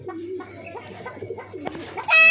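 Jalali pigeons, rock doves kept in a coop, coo in soft repeated low calls close by, with a sharper, louder call at the end.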